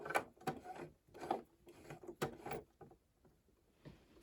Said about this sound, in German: dann mache ich in der Regel die letzten paar Stiche mit dem Handrad